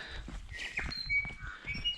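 Birds chirp and sing in short scattered calls on a calm, sunny morning along a hiking trail on the Travers Sabine Circuit, the calls moderately close over quiet outdoor ambience with no wind or talk.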